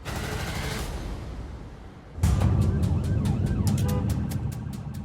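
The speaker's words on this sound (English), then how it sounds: "Can you see the ambulance anywhere?" An ambulance siren wails nearby at a medical emergency where a collapsed man is being given CPR, starting after a short lull and growing louder with rapid repeating sweeps that continue to the end.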